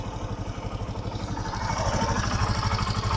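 A motorcycle engine runs after a self start, ticking over at a steady idle before the revs rise into a fuller, louder throb.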